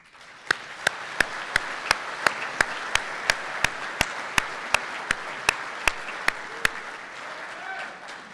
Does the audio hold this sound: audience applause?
yes